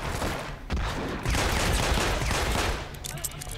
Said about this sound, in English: Let's just shoot these guys